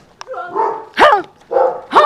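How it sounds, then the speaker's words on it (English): Dogs barking in a small town on the way to Lesotho, with close repeated barks and yips in four bursts. "Oh, the dogs."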